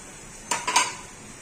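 A spoon stirs potato rice with fried onions in a pan, giving two or three quick, close metallic scrapes and clinks with a short ring, followed by quiet.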